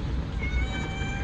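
A pet cat meowing close by, a single drawn-out, slightly strained cry that holds steady for about a second over a low background rumble.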